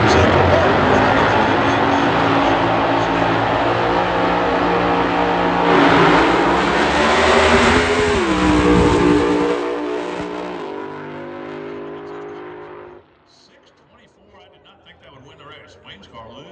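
Top Alcohol Dragster or Funny Car drag racing engines roar at full throttle at an NHRA race, a loud sustained blast that rises in pitch, then cuts off abruptly into quieter rumbling, with a voice over it.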